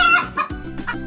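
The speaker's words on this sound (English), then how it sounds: "hen" A hen clucking up close, a quick run of short, loud clucks in an uneven rhythm.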